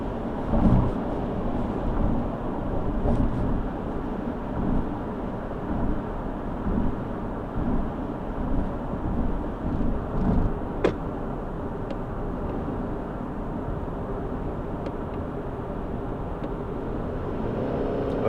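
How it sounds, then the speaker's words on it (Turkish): Subaru Forester e-Boxer accelerating through a curve on a wet road, steady engine and tire hiss with road rumble from inside the cabin, continuous and fairly even. "Gaza oturdum, içe çektim arabayı."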